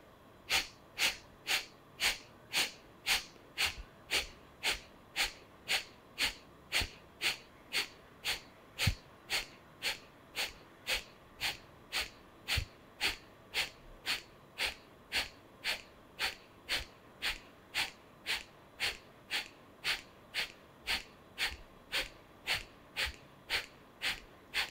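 Rapid, forceful nasal exhalations of a pranayama cleansing breath practice come in an even, fast rhythm of about two per second. The sharp puffs repeat steadily and close up for the whole stretch, with no talking.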